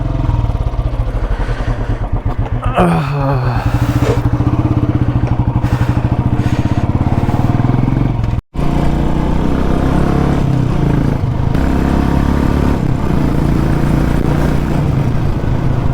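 A modified Royal Enfield Classic 350 motorcycle engine idles loudly close by after a cold start with a steady, uneven thumping putter, briefly revving near the start, then settling into a constant rumble.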